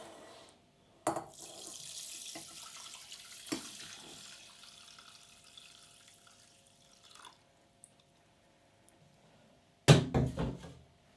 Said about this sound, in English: To this we add just over a pint of boiling water.